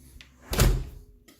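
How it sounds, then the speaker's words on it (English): A screen porch door on a newly built house swings with a faint creak, then shuts with a single solid thump, close by and with no talk over it. "You just open the door. When you're done, close it right up."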